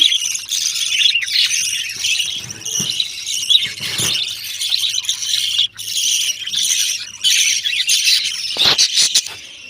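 Ducks and ducklings in a backyard pen give steady high chirps and peeps, near and continuous, with occasional squawks and thumps.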